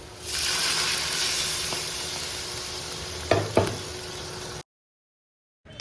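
Vegetables sautéed with spices in a hot pan for a fish-head curry: a steady close sizzle with a couple of sharp knocks of a utensil near the end before the sound cuts out.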